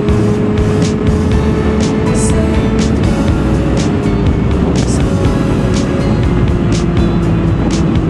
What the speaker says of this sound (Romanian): Apăsăm pe accelerație